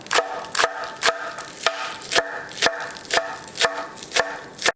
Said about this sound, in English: And same with the green onions, just chop it up.